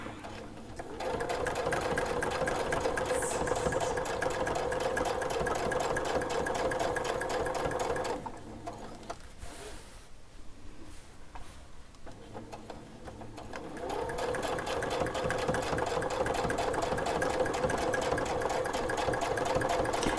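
A sewing machine stitches a pattern guided by a template, its rapid needle chatter running loud and close, pausing for several seconds midway, then resuming at the same steady pace.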